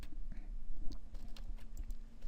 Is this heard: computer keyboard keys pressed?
yes